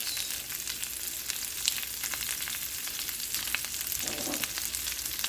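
Asparagus sizzling steadily in a hot pan with a little oil while tomato sauce is being made, a dense continuous frying hiss with a brief soft stirring sound near the end.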